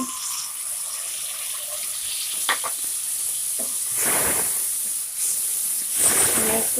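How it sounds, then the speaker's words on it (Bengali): Hot water hits frying spice paste with tomatoes in a pan, breaking out in bursts of loud hissing sizzle between quieter stretches of gentle frying, close by. "একটু গরম পানি দিয়ে দিব"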